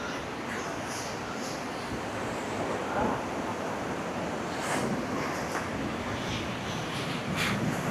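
Ocean waves break on a beach with a continuous rolling surf roar and occasional wind gusts; a voice talks faintly in the background.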